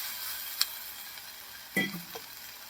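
Cut eggplant pieces drop into a spiced pan and fry with a faint, steady sizzle, broken by a sharp tick and a louder clatter of the vegetables landing, close and quiet overall.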